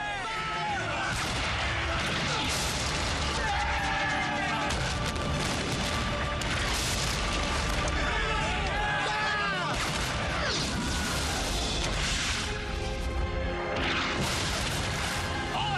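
Naval gunfire rings out in a film battle scene, with heavy booming shots and crashing impacts over a dense, loud roar, and voices heard amid the din.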